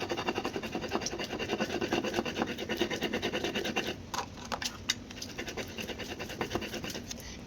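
Fresh ginger is ground into a spice paste on a grinding stone, giving a rhythmic close scraping and rasping of stone against stone, heavy and steady at first and then lighter with a few sharp knocks.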